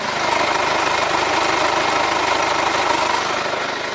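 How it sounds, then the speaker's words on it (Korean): A Hyundai Grandeur with a CRDI diesel engine runs at idle, a loud, steady, dense clatter with even rhythmic knocking, heard up close and alone throughout. "엔진 소음 먼저 들려드리면은"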